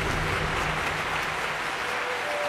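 A Taiwanese crowd applauds a performing troupe: steady, dense clapping from a large audience, even and continuous throughout, with a faint murmur beneath.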